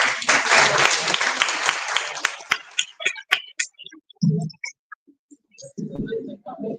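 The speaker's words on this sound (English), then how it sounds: "A round of applause." Audience applause at a conference on alternative mining in Cape Town, a dense burst of clapping filling the first few seconds, then thinning out to scattered claps as a voice speaks over the tail.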